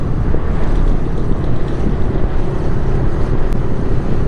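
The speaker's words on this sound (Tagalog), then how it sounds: "malakas ng hangin, no?" Steady, loud typhoon wind roaring and buffeting the microphone throughout in Carmona, a dense low rumble with no pauses and no voices.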